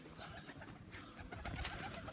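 Pigeons coo softly from a loft, low murmuring calls faint against a rustling outdoor background, brief and without speech.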